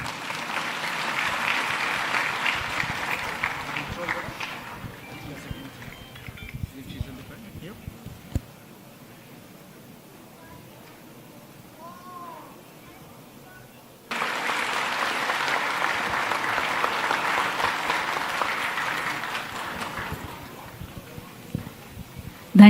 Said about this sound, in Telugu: మీరు ఇప్పుడు కూడా చప్పట్లు కొట్టచ్చు.